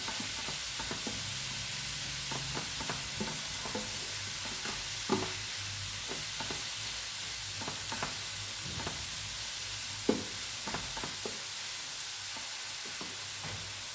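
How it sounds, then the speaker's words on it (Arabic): Rice stirred in a pot so it won't stick, giving soft scraping strokes at an uneven pace over a steady low sizzle, close and fairly quiet with no voices. "صافي نحركوها هكا مره غير باش ما تلصقش لينا."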